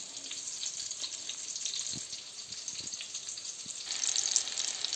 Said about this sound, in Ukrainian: відправляємо на добре розігріту сковорідочку